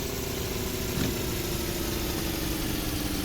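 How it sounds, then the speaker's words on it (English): A Renault Grand Prix car engine braking, a steady close drone of the engine holding one even pitch throughout, dense and continuous with no pauses. "I'll use some engine braking as well."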